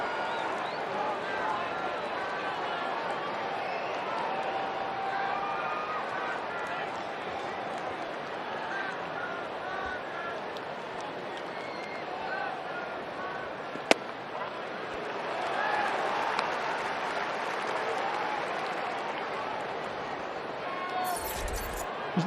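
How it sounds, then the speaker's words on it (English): Baseball stadium crowd at a Reds versus Padres game, a broad, sustained murmur and roar of many fans that swells toward the middle, with a sharp click partway through and voices talking over it. "Isn't that roar of the crowd nice?"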